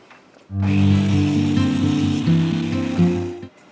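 A power saw cutting a 45-degree bevel in wood for a chest lid, a loud steady whine for about three seconds, starting abruptly and stopping close up, with no talking.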